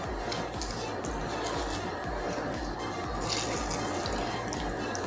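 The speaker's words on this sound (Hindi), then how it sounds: "इस प्याज को इस तरह लेके हाथ की मदद से इसमें जितने पानी है, ये देखिए इस तरह जो पानी इसका निकाल रहा है" Water dripping and trickling from chopped onion squeezed by hand in a kitchen, a steady run of splashy drips and trickles at close range.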